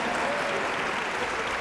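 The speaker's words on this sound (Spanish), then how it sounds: "este aplauso tiene el fagot" Loud, dense applause from a concert audience cheering the bassoon at a children's orchestra concert, a continuous wash of many hands clapping throughout with no pause.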